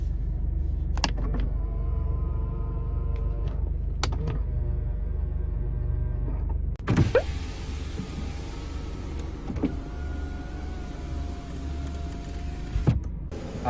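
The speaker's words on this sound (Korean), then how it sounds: "접이식 사이드 미러" An SM5 car's power-folding side mirrors whir in motor bursts, a smooth electric drone with clicks at the start and stop of each movement, heard close inside the car.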